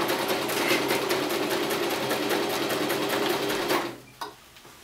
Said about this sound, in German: Und auf den nähe ich jetzt einfach drauf mit dem Doppelstich.